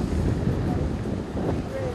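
Strong wind buffets the microphone with a steady roar over churning, whipping sea water on the Cornwall coast ahead of a storm, continuous and loud throughout.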